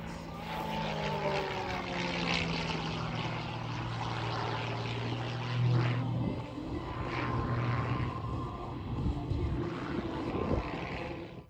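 Propeller aircraft flying aerobatics at the AirVenture air show, a continuous droning engine whose pitch sweeps and shifts as the plane maneuvers at a distance, moderately faint.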